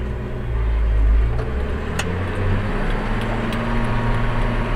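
A New Holland Versatile 9482 tractor runs in a field while leveling corn stalks, its deep engine drone loud and steady throughout with a heavier low surge near the start and faint clanks above.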